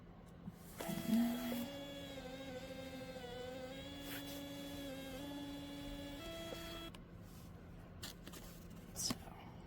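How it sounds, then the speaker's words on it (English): A Phomemo M220 Bluetooth thermal label printer prints a label with a steady whirring motor drone lasting several seconds, starting with a brief jolt and ending with a small click, heard close up. "But first I'm gonna switch over to the printer. There we go, print label."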